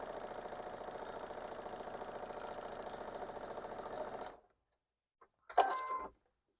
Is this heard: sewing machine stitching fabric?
yes